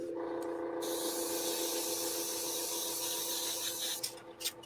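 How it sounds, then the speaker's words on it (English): A new airbrush sprays paint during a model-building session, giving a steady close hiss with a faint hum that continues for several seconds before sputtering into short bursts at the end. "Steve, is that your new airbrush?"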